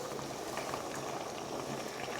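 A pot of water at a full rolling boil for ravioli gives a continuous busy bubbling and hiss, close and even throughout, alone without talk.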